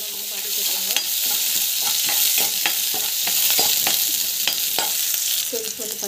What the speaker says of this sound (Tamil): சின்ன வெங்காயம், பூண்டு, ஸோ கடலைப்பருப்பு நல்லா வந்து வதக்கிட்டுருங்க.